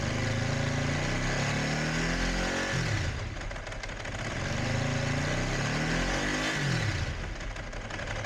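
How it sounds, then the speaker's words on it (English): A Ducati 749 motorcycle engine, just fixed after a charging fault, revs loudly and close up, its rising and falling roar swelling in repeated blips over a steady rumbling idle. "Right, we'll just rev it a bit more."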